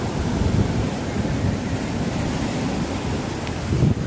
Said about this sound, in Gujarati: જો દરિયો કેટલો મોજા મારી રહ્યો છે આજે